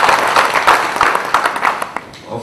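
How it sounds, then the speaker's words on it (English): Audience applause after a keynote talk at a conference, a dense patter of many hands clapping steadily for about two seconds and tapering off near the end, with no one speaking over it. "So another round of applause to India."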